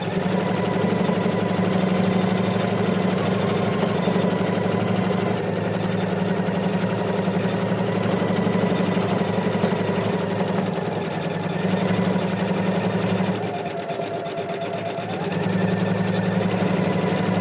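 A sewing machine stitches white thread on white fabric with a loud, close, continuous mechanical whir and rapid needle clatter, briefly slowing near the end before running on at full speed.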